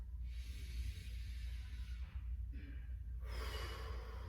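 Deep, slow breaths during a seated chair yoga session: long airy inhales and exhales close to the microphone, with a low hum underneath and no talking.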